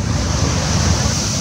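Ocean surge rushing through the rocky La Bufadora sea blowhole in Mexico, a steady loud wash of churning water and wind noise with no clear breaks.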